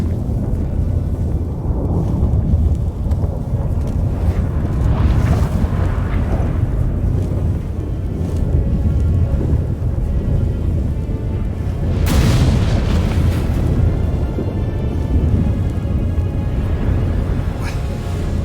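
A storm in the fantasy game The Witcher 3: Wild Hunt, with a continuous loud roar of wind and deep rumbling booms of thunder, swelling at moments.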